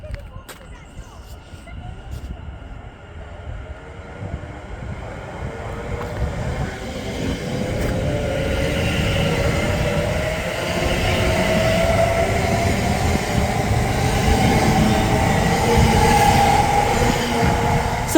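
A passenger train rumbles past close by through Berkhamsted station, growing louder over the clip, with rolling wheel noise and faint squeals, plus voices in the background.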